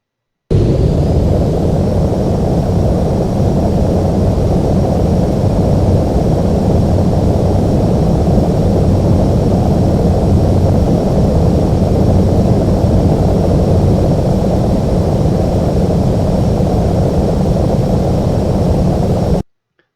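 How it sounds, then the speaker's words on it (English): A Boeing 747 in Microsoft Flight Simulator X on a night ILS approach to San Francisco makes a steady, loud jet engine roar that holds unbroken for the full stretch, with no talking. "the airplane just started turning towards this on its own"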